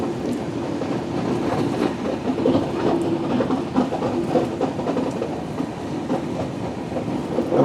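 The Netravati Express rolls along the rails through Kerala with a continuous rumbling roar and an uneven wheel clatter, heard from on board at a steady level throughout.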